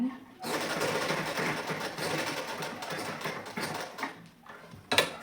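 A sewing machine stitching slippery suit fabric with fine stitches, a steady mechanical whirr running for several seconds then pausing briefly before a short final burst.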